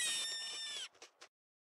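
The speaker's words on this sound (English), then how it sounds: "If a rabbit detects a wolf, then they'll let out a high-pitched squeal and run away." A rabbit in The Long Dark video game lets out a sharp, high-pitched squeal lasting under a second, followed by two brief fainter chirps, then silence.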